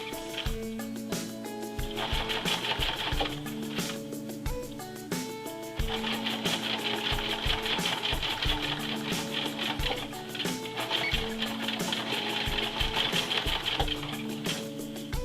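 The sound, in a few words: sewing machine stitching coat hem lining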